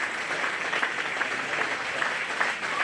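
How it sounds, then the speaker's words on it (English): Moderate applause from the crowd at a county fair livestock show ring, steady clapping for the judge as he leaves, somewhat distant and without talk. "this time to give our judge, Andy Jacobson, a round of applause before he exits the ring."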